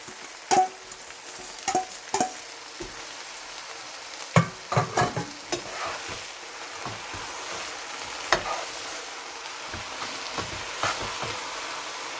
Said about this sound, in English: I stir the mulukhiya leaves with all the other ingredients for like 5 minutes.